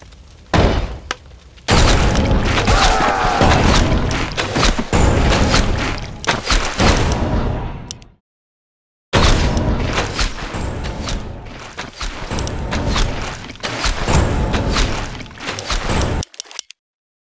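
A town comes under siege in the Warcraft III Reforged Frozen Throne human campaign, with dense, loud battle noise of booms, thuds and impacts, broken by a sudden short silence midway.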